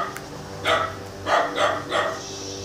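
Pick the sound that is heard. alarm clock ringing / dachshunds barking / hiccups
dachshunds barking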